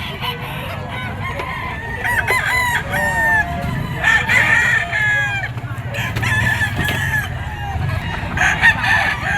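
Roosters crow and hens cluck in a busy poultry market full of fighting-cock breeds, with repeated crowing calls overlapping near and far above a dense murmur of birds and crowd noise.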